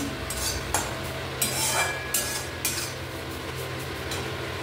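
Potatoes cooked with neem leaves and salt are stirred in a pan, a utensil scraping and clinking against the metal several times over a soft background hum, with no voices.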